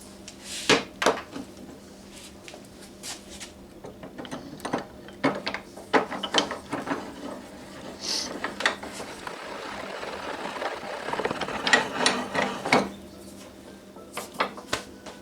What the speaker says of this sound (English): Now let's put our front part of the vise in.